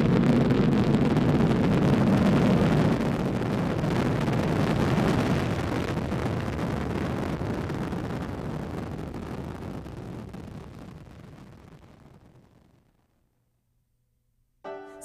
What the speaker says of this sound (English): We have a go for engine start, 0. We have booster ignition and liftoff of Columbia.